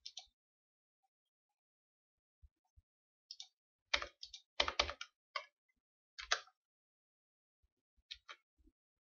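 Fingers type on a computer keyboard in short, irregular bursts of crisp key clicks, with scattered single taps and pauses between, close and clear in a quiet room.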